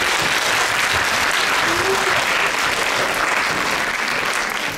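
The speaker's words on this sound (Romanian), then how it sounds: "Să-i aplaudăm" Audience applause after a girls' group performs a Romanian folk ruga, a dense steady wash of clapping from a hall crowd, loud and unbroken for the whole stretch.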